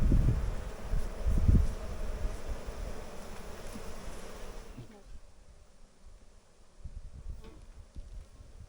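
Bees buzz in a steady hum throughout as frames are pulled from a hive, louder and busier at first, with wind and handling noise, then quieter with occasional bumps.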